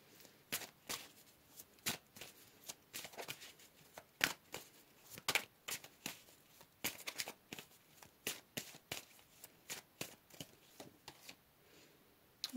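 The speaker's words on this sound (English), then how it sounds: "Let's pull some more cards here." A deck of tarot cards is shuffled and cards are pulled during a card reading, giving a close, steady run of crisp papery snaps and flicks in an irregular rhythm, with no talking over it.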